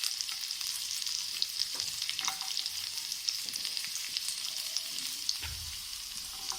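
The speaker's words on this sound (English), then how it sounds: "let's fry this for a while." Chopped ginger, garlic and green chili sizzle steadily in hot oil for a chicken dish, a continuous bright crackle with a few stirring clinks and a low knock near the end, with no talking.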